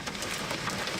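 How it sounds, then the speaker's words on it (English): Dense, steady drumming of hail beating down on a car in a severe supercell storm in Indiana, a constant close clatter filling the whole moment with no voices. "you can hear the hail beating down on this car"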